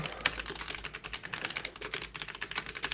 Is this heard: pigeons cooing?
no